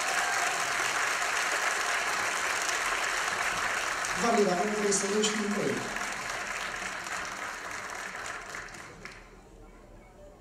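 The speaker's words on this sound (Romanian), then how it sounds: "Hai măcar niște aplauze la serioase." A crowd at a folk ensemble's spring stage show keeps up a dense, steady applause while someone talks over it; the clapping thins and fades out near the end.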